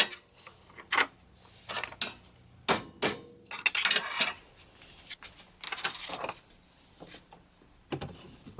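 A bolt is hammered into a wooden lathe steady rest in a woodworking shop, producing a series of irregular, sharp knocks separated by short quiet gaps.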